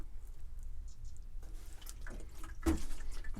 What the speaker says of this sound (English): now we're just going to water again.